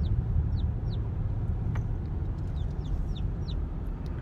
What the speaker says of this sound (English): 4 different types of chicken.